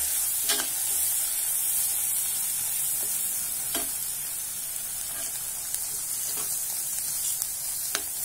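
A ground coriander and mint paste frying in a pan for thokku, a continuous bright hissing sizzle with a few scattered clicks of stirring, close and steady with no talking.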